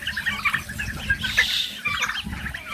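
Hungry farm ducks being called to feed make a busy mix of quacks and calls at close range, with fowl noise overlapping continuously and no clear speech.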